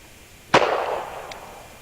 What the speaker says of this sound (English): shooting this upside down is a little bit harder than it looks